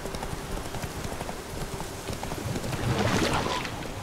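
Geralt's horse Roach trotting in The Witcher 3 video game, a steady rapid clip-clop of hooves on ground, fairly loud and continuous, with game ambience rising slightly toward the end.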